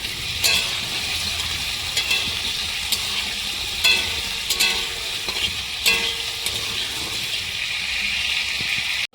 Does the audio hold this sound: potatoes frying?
yes